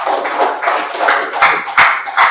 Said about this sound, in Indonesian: Tepuk tangan dulu untuk teman-temannya semua.